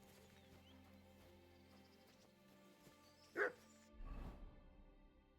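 A single dog barks once, short and sharp, at mid distance in the Kingdom Come Deliverance II video game, over a quiet musical backdrop, followed by a low thud.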